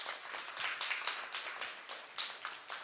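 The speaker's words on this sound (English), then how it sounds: "So yes, please, a big round of applause." An audience at a temple gathering applauds after a weekly class, a moderately distant wash of many hands clapping in uneven pulses, fairly soft and without voices.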